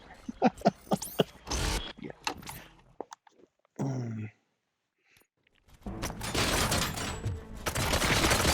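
Gunfire in RoboCop: Rogue City comes in quick bursts of sharp shots at the start, followed by a loud, sustained stretch of heavy firing and noise, with voices speaking in between.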